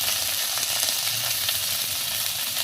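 Ginger-garlic paste fries in a pan for broiler chicken curry, a loud, steady, close-up sizzle that holds evenly throughout with no talking.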